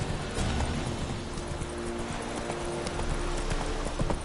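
Horse hooves clip-clop at a steady walking rhythm in the video game Witcher 3, a continuous close patter over faint background ambience.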